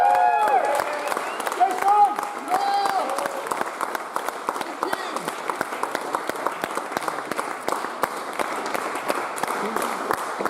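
Applause at pinball championship finals: a crowd claps steadily and loudly for about ten seconds, with an announcer's voice heard over the start.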